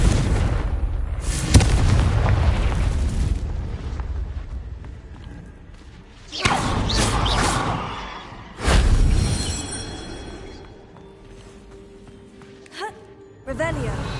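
Confringo blasting curses firing in the Hogwarts Legacy game, several booming explosive bursts spaced apart, with loud blasts around the middle of the clip and rumbling decay between them.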